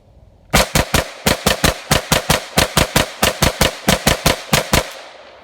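A Chiappa PAK-9 9mm AK-style pistol fires about twenty loud, sharp shots in quick, slightly uneven succession, close to the listener, with no talking over them.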